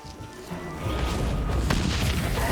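Bombs explode in The Witcher 3 as a deep, heavy boom that swells in and then rumbles on loudly with crackling debris and fire.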